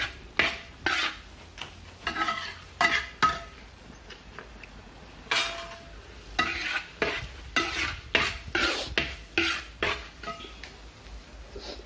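Tripe stir-fried in a pan over a wood-fired stove, a rapid run of loud rhythmic scraping strokes of a spatula against the pan over a soft sizzle, with short pauses between bursts and no talking.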